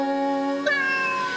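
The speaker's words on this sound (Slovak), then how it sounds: "Áno, je to mačička, mačka mňauká mňau." A single drawn-out cat meow, clear and close, its pitch rising partway through, heard alone without talking.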